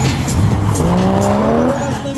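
A Toyota Mark II drifting at a drift show, its tires squealing in long rising and falling tones over a revving engine, loud and close for a couple of seconds.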